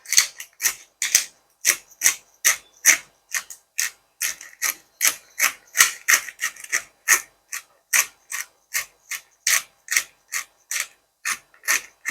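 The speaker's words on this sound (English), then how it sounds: "black pepper, which I'm just going to grind now" A pepper mill grinds black pepper for tomato, pasta and basil soup in a steady run of about thirty crisp, rasping crunches, evenly spaced and close by, with no talk.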